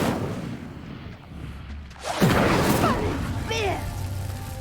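An Incendio fire spell lights a pyre in the Hogwarts Legacy video game, bursting with a loud whoosh and boom before settling into a steady rushing roar of flame and a shimmering magical tone.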